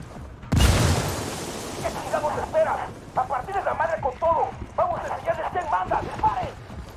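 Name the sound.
grenade explosion in video game Ghost Recon Wildlands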